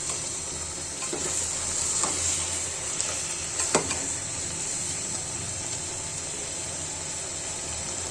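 Chicken fries with ash gourd peel paste, onion, garlic and ginger, giving a continuous close sizzle with a few scraping stirs and clinks of a spatula against the pan.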